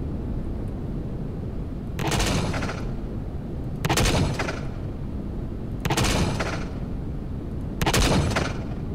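Aircraft guns fire in a video game as four separate loud bursts of rapid shooting, spaced about two seconds apart, over a steady roar of engine and wind.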